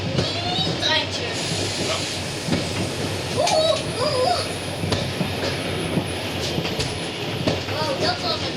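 A Schienenbus railbus rumbles along the rails between Simpelveld and Kerkrade with hissing and rhythmic clatter, heard from inside, with faint voices mixed into the steady noise.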